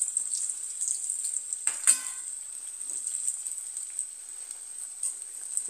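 Susiyam, a sweet Tamil snack, fries in hot oil with a steady, even hiss and soft crackle, and occasional utensil clinks close by.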